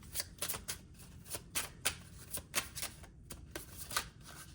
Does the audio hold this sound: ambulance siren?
no